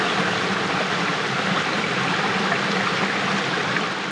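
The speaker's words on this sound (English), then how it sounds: "There's actually a second creek coming in over there." A creek flows downstream in a steady, close, full rush with no break across the span, and no voices.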